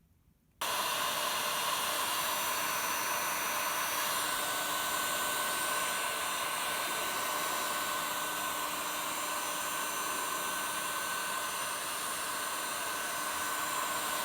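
A heat gun blows hot air onto a Victron 150/100 MPPT charge controller, a loud, steady whooshing roar that starts abruptly and holds unbroken to the end, with no talking.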